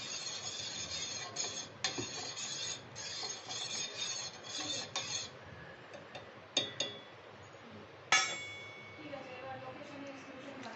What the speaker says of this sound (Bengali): এবার আমি এই চিনি আর আগার আগার পাউডারটা ভালো করে জলের সাথে গুলে নেব।